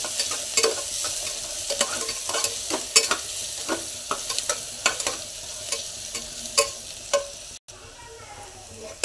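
Onions fry in a pan while being stirred often, a constant sizzle punctuated by many quick scraping and tapping strokes in an irregular rhythm, close up, with a brief dropout near the end.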